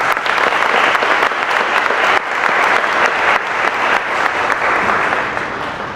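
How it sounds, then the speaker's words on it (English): Loud, steady applause from an audience at a high school academic awards night honoring scholarship donors, many hands clapping continuously and evenly for the whole stretch. "If we can give them a round of applause"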